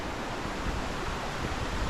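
A rainforest river cascades down rocks on the Minnamurra walking track, giving a steady, dense, full rushing of water with no voices.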